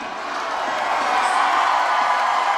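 A steady, dense roar of a gym crowd cheering at a girls' high school basketball regional championship, whipped up by an enthusiastic cheer dad; continuous, full and fairly loud with no clear breaks.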